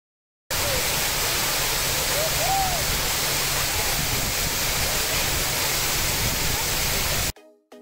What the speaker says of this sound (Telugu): వాటర్ అలా 64 ఫీట్ హైట్ నుంచి పడుతూ ఉంటే సౌండ్ ఎలా ఉంటుందో ఒకసారి వినండి